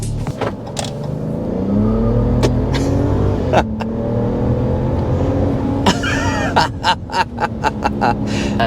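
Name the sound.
2025 RAM 1500 Tungsten turbo I-6 truck hard acceleration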